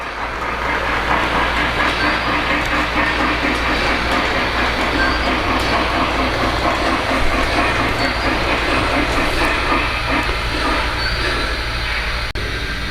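Solar-powered model railroad train running on a layout, a continuous steady rumble and clatter of wheels on track, close and fairly loud without a break.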